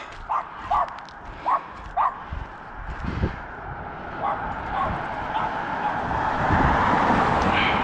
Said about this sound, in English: It's a symphony of mutts.